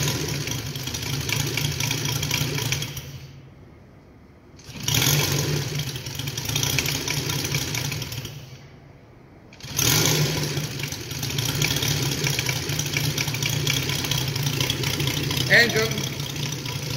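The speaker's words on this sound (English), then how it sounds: "So let's give it a start." A UMS 260cc engine with an RCEXL-CH CDI runs steadily at a low idle, loud and close, with two brief drops in sound between runs as it is restarted, and no talking over it.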